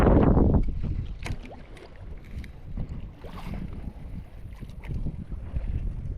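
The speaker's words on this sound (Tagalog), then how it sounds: "Yan o, pakinggan nyo guys. Grabe ng hangin." Strong wind blows outdoors and buffets the microphone in heavy, rumbling gusts, loudest at the start and then continuing as a rough, unsteady roar with scattered rustling.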